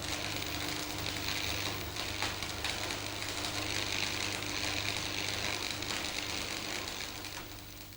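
Arc welding a metal joint: a steady crackling, sizzling hiss with rapid irregular spitting, moderately loud and continuous, fading slightly at the very end, with no speech.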